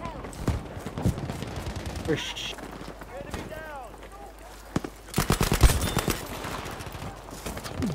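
Battlefield V online match with bursts of machine-gun and rifle fire, sharp shots clustered near the end, heard under a player talking over the game.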